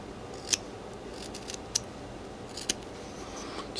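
Whittling knife trimming a small wooden golden retriever carving, giving three or four faint, sharp scraping snicks spaced about a second apart over a quiet room hiss.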